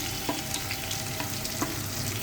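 Curry leaves, green chillies and onions frying in hot oil for a gravy curry, a dense continuous close crackling sizzle with a few soft stir knocks, no talking.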